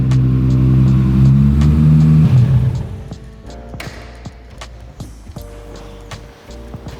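An NOS-fed R33 Skyline with a Powerglide transmission revs hard and loud for about two seconds, then drops to a lumpy idle with intermittent blips over the next few seconds.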